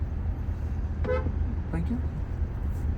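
Two short car horn toots, about a second apart, over steady road rumble and traffic noise.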